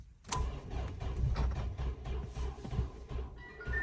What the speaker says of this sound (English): Here is a remote control Rofun petrol car, powered by a 36cc 2-stroke petrol engine, on a 4-wheel drive chassis